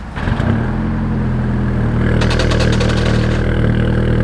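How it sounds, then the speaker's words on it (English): An oil-leaking Audi A3 turbo engine cranks and catches, settling into a steady low idle with a brief rattling burst partway through, close and loud. "Let's give the Audi a start up."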